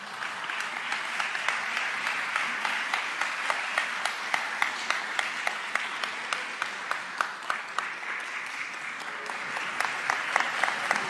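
Loud, sustained applause fills a ceremony hall as a medal and decoration are presented to a doctor by a congresswoman, dense clapping with sharper individual claps standing out throughout, no speech.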